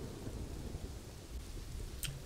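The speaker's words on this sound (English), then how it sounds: "It's raining." Steady rain hiss with low rumbling thunder from the weather in the city-building game Kingdoms and Castles, continuous and fairly quiet, with a brief brighter crackle near the end.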